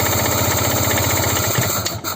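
A cold engine cranks steadily on its starter without catching, a continuous loud, pulsing churn that stays near and even before faltering briefly at the end.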